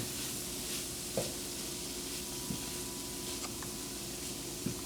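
Spoon stirring ground cumin into burrito filling sizzling in a pan, a steady frying hiss with a few soft scrapes and clicks.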